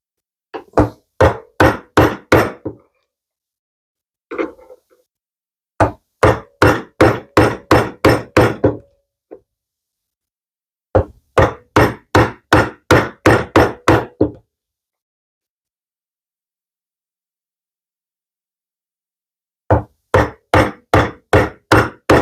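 Hand-tool woodworking: a chisel is struck into wood in quick bursts of sharp, rhythmic knocks, about eight to ten blows per burst, separated by short pauses, close and alone.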